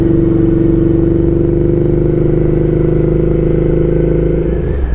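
A Royal Enfield Interceptor twin fitted with an S&S 2-1 exhaust idling up close, a loud, steady, throbbing rumble with a rhythmic pulse, fading slightly at the end.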